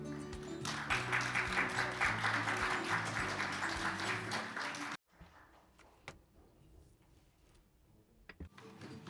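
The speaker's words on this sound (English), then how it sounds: "Let's give him a warm round of applause." Audience applause at a global symposium on open government, a dense steady round of clapping for about five seconds that cuts off abruptly, followed by quiet room noise with a few scattered taps and knocks.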